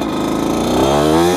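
A 1998 Kawasaki KX80 two-stroke dirt bike engine buzzes steadily up close, its pitch dropping partway through then climbing again, loud and unbroken with no voices.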